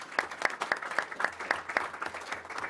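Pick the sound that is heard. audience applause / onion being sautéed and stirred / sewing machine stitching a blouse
audience applause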